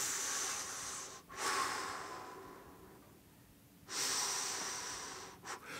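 Slow, quiet breathing close to the ear: two long hissy breaths separated by a hushed pause, with a short catch near the end and no talking.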